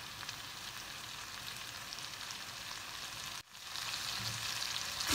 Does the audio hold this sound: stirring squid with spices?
yes